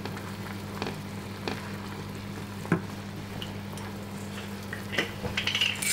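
A vegetable gravy mix cooks over a stove flame with a low, even sizzle under a steady hum, broken by a few soft utensil clinks and taps.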